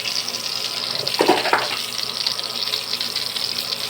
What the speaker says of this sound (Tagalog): Yung power spray natin nakalagay sa sa bomba.